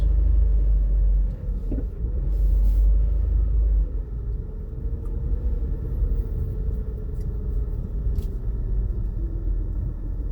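A car drives along steadily with a deep, continuous engine and road rumble close by, a little heavier for the first few seconds, with no talking over it.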